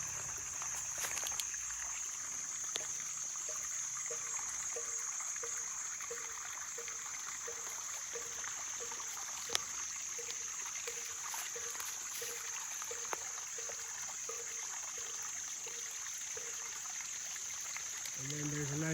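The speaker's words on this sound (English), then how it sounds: "the water trickling down." Water trickling down a small stream beside yellow bamboo at Sri Gupta Govardhan in Chiang Mai, Thailand, a faint steady babble under a high background hum, heard alone with no talk.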